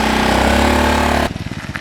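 A rented motorbike engine drones loudly and steadily while riding through a town in Thailand, then cuts to a rougher, pulsing idle-like putter for the final half second.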